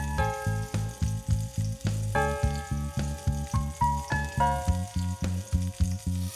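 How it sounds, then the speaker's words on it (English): White wine sizzles and spits in a hot non-stick pan as it is stirred over raised heat, a steady frying hiss running through the whole stretch alongside a regular, rhythmic pulsing background. "Once you add the wine, immediately you raise the heat and you start stirring."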